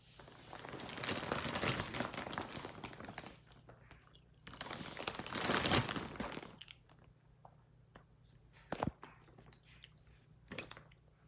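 A person chews crunchy food up close, with two long stretches of loud crunching and biting followed by quieter, scattered chews and a few sharp crunches.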